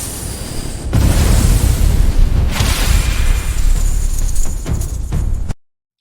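A channel intro sting opens with a short quiet lead-in, then a loud deep boom that rolls into a sustained rumbling, whooshing sweep with a few sharper hits near the end before cutting off abruptly.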